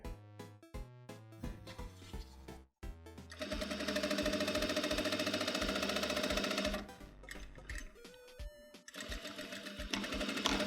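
A sewing machine stitches a tapered jeans leg seam, its motor running in a steady, dense whir for several seconds between shorter start-stop bursts, close and fairly loud with no talking.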